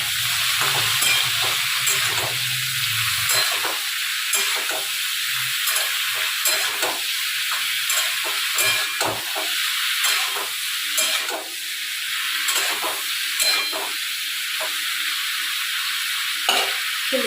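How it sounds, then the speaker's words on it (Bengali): Potato and pointed gourd pieces fry together in hot oil, giving a loud, steady sizzling hiss broken by frequent short scrapes and clatters of stirring, with no voices. "আমি আলু পটল দুটোই তেলে দিয়ে দিয়েছি দুটোই একবারে ভেজে নেব"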